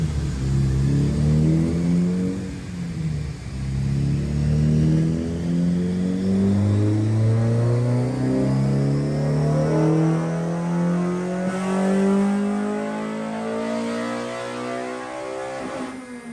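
A B16A engine with CTR pistons and an ITR cam revs hard on a dyno during a tuning run, its pitch sweeping up steadily through the rev range in a loud, sustained high-rpm howl.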